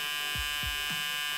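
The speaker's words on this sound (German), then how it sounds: "Auf jeden Fall klingt der Rasierer deutlich voller bzw. satter als die eher hochfrequenten Geräte von Philips" Braun Series 5 electric shaver running: a steady, full-bodied buzzing hum, loud and close, held constant with a few soft low thumps as it moves.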